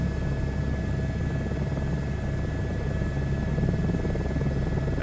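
A helicopter in a VR flight game flies over the UK, its steady rotor drone and engine buzz holding loud and close throughout with no talk.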